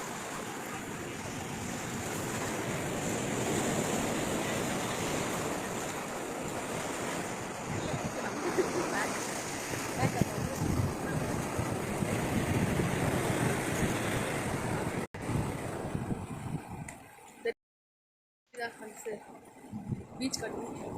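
Steady ocean surf rolls onto a beach in a continuous wash, mixed with gusty wind buffeting the microphone, before a brief dropout and a rougher, choppier stretch at the end.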